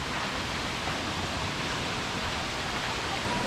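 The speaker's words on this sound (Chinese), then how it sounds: "有一个小瀑布哎，我们有看到一个小瀑布哎" A small waterfall on a mountain trail pours in a steady, even rush of broadband water noise, constant and unbroken, with no voices.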